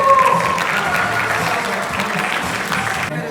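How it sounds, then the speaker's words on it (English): A crowd at a Global Link Singapore event gives a round of applause for a participant, with sustained clapping throughout and a voice briefly audible at the start. "Everyone, round of applause to"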